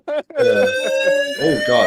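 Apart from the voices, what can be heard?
phone alarm going off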